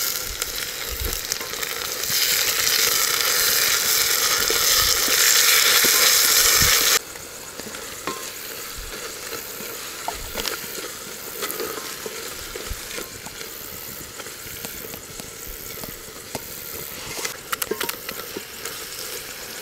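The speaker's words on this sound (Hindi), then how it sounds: "ये स्पेशल बिरयानी मसाला, तो चिकन हो रहा है फ्राई।" Chicken frying with biryani masala paste in a pan over browned onions at a rainy mountain campsite, a loud steady sizzle that drops to a quieter crackling fry with occasional stirring clicks.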